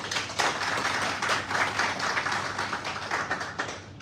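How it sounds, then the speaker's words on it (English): An audience at a national panel discussion on the mpox response in Sierra Leone claps for several seconds, a moderately quiet, even patter of many hands with scattered sharper claps. "we should applaud the little"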